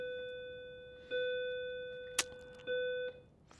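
A school bell rings in a classroom setting, giving two sustained electronic chime tones of about a second each separated by a pause, with a brief sharp knock between them, fairly faint with no talk.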